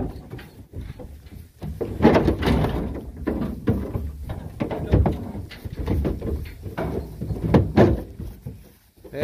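A door being opened, with repeated wooden knocks, rattles and scrapes in irregular bursts over several seconds, close and fairly loud.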